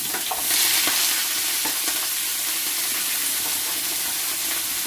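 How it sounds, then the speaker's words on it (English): Vegetables for a stir fry sizzle loudly and continuously in a hot pan, a dense close hiss with occasional faint stirring scrapes and no voices. "we're just going to pop it all in and listen to that"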